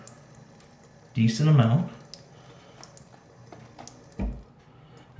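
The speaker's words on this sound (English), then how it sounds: "So I'm going to add some water" Tap water runs briefly into a bowl of Wilkinson Sword shaving soap lather, a splashing gush lasting under a second, followed later by a short thump, while someone talks quietly throughout.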